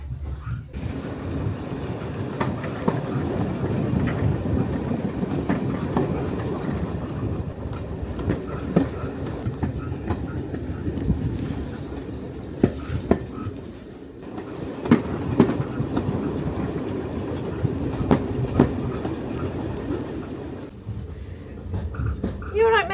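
A heritage standard gauge train running on Peak Rail in Derbyshire, with continuous rolling rumble and rhythmic clickety-clack of wheels on track, heard from aboard over about twenty seconds while people talk and a dog is briefly audible.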